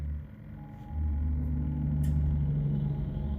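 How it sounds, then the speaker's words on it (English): A giant truck passes nearby with a steady low engine rumble that swells after the first second and holds, loud and close, no voices over it. "while a giant truck drives by"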